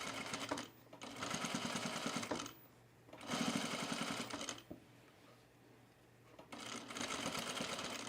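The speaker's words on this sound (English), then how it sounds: "And I'm just sewing right over those pins." Close, rapid mechanical chatter from a sewing machine stitching over pins on a fleece pullover's binding comes in three long bursts separated by quiet gaps.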